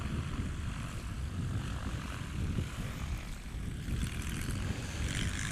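A propeller-driven STOL aircraft takes off at a short takeoff and landing qualifying contest in Brainerd, Minnesota, its engine a steady droning roar with gusty wind noise throughout, fairly distant and with no talk.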